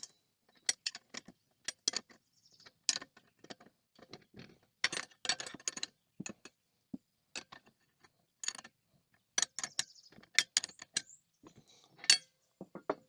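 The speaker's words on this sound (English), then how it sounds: "We'll snug up this back nut and then we'll adjust the front one." Wrench tightening a nut on a metal Texas Star target base plate, a string of close, sharp metallic clicks and clinks in irregular bursts with quiet gaps between them.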